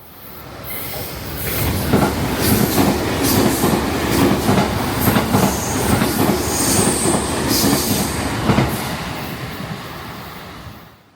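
A train rumbles through Jokoji Station in Japan close by, wheels clacking rhythmically over rail joints with occasional metallic squeals, the noise swelling, holding, then fading away.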